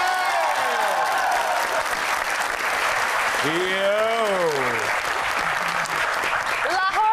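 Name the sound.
audience applause for Lahore Qalandars supporters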